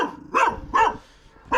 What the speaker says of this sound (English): He is a nice dog, really.